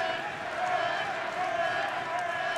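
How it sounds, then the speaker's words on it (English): A crowd at a Shock n Awe amateur MMA fight roars continuously from a distance, a steady wash of cheering and shouting with faint whistles, under a commentator's voice. "The crowd out of their seats going crazy for Benny Carr."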